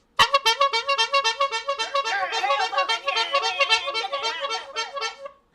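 A person vocally imitates a car horn, a loud, nasal, buzzing honk held for several seconds with a pulsing, wavering rhythm, close up and alone.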